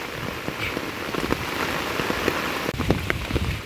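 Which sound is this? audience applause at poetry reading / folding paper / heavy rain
heavy rain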